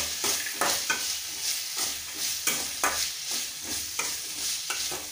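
Peanuts fry in a pan for upma, giving a soft steady sizzle with a rhythmic series of spoon scrapes and light rattles every half second or so, close and fairly quiet, with no speech.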